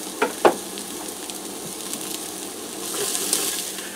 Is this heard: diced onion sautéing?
yes